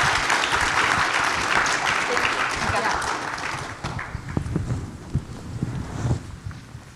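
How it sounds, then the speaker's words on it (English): Audience applause for panelists at a New York Fed innovation conference, a dense, loud wash of clapping that fades after a few seconds into scattered claps, with a voice speaking over the tail. "let's give a round of applause to our panelists"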